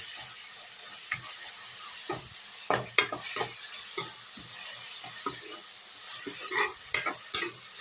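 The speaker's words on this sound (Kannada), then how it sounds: "ತುಂಬ ಏನು ಫ್ರೈ ಮಾಡಬೇಕು ಅಂತೇನು ಅವಶ್ಯಕತೆ ಇಲ್ಲ ಫ್ರೆಂಡ್ಸ್ ಸ್ವಲ್ಪ ಫ್ರೈ ಮಾಡಿಕೊಂಡ್ರೆ ಸಾಕು" Vegetables including cucumber frying in a pan, a soft hiss of oil under repeated scraping and clattering stirs that come in bursts, close by with no speech.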